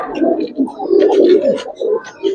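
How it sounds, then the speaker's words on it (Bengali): Giribaz pigeons cooing in a loft, several overlapping soft, throaty coos repeating in quick succession, close and fairly loud, with no talking. "একটা কবুতর থাকুক আপনার বাড়িতে, যে সব সময় ডাকাডাকি করবে"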